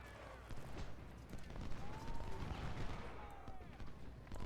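Scattered musket gunfire from a Civil War battle in the strategy game Ultimate General Civil War, with distant pops and crackles over a busy battlefield din.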